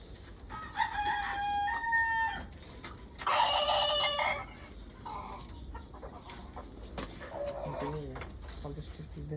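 At a poultry market, chickens cluck and a rooster gives a loud crow up close, with a second burst of crowing, while people talk nearby.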